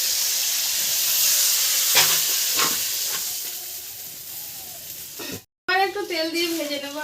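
Fish frying in hot oil gives a loud, steady sizzle and hiss that fades slightly, breaks off briefly, and then a voice speaks over a lighter sizzle.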